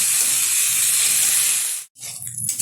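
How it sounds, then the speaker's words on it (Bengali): Bitter gourd leaves and potato frying in a pan give a loud, steady broadband sizzling hiss that cuts out abruptly near the end, then returns more unevenly. "খুব ভালোভাবে উচ্ছের পাতা আর আলুটা ভেজে নিয়েছি"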